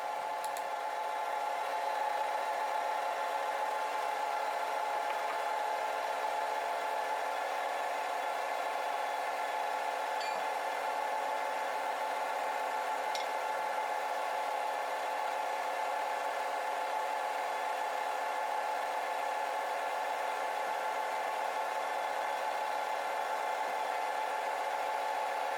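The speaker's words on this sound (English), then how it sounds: "Roughing out resin can be brutal." A wood lathe roughs out an apple and resin bowl blank, giving a steady, continuous whine and whir with a faint tool scrape running evenly throughout.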